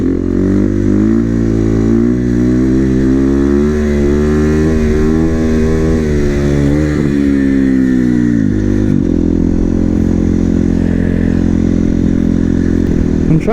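Supermoto motorcycle engine revving hard and close, a loud sustained roar whose pitch climbs and falls in repeated sweeps, then settles into a steady high-revving drone without shifting.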